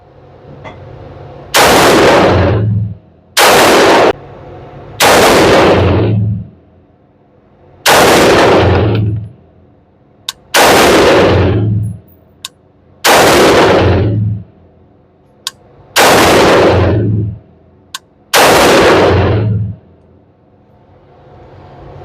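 Geissele Super Duty AR15 in 5.56 firing at an outdoor range: nine loud, close rifle shots spaced a couple of seconds apart, each with a long rolling echo and brief quiet between.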